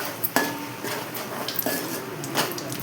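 A spoon scrapes and clanks against a cooking pot as egg biryani masala is stirred, with sharp metallic knocks at irregular intervals over a soft background hiss.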